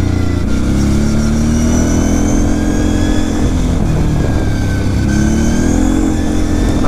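A Kawasaki KFX 700 quad's engine drones steadily while riding, with pitch that rises and dips as the throttle changes, loud and close throughout.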